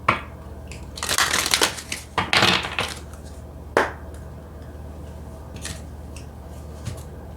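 A card being drawn from an oracle deck during a reading, with close crisp rustling, shuffling and snapping of card stock in short bursts, then quieter handling.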